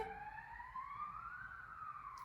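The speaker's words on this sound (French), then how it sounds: "Je vais attendre que l'ambulance passe." An ambulance siren wails in the distance, a faint rising and falling tone sweeping steadily over low background rumble, with no talking.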